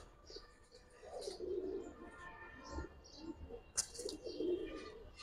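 Pigeons in a loft where giribaz high-flyer birds are kept coo softly and repeatedly, low murmuring phrases with faint chirps and rustling in the background, fairly close but quiet.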